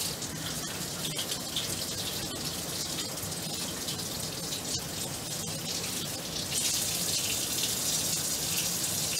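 Tap water runs steadily into a sink during surgical hand scrubbing, a continuous hissing splash that grows slightly louder and brighter near the end, with no talking.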